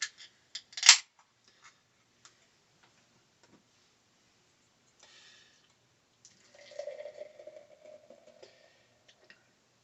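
After a sharp click and a few faint ticks, Oskar Blues Can-O-Bliss Tiki IPA beer is poured from a can into a glass with a soft, fizzing gurgle in near-silence.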